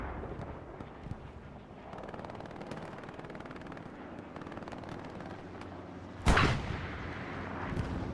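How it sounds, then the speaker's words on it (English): Within the constant background din of combat in Hell Let Loose, a single artillery round lands with a loud, sharp crack followed by a rumbling tail, while distant gunfire keeps popping around it. "Artillery round takes out a couple tankers."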